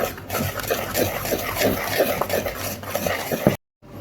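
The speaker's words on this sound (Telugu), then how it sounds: "టూ త్రీ త్రీ ఎగ్స్ వేసేసుకొని బ్యాటర్ మంచిగా మంచిగా కలిపేసుకోవాలి" A spoon or whisk stirring eggs into thick fudgy brownie batter, giving a continuous wet churning and scraping close by that stops abruptly near the end.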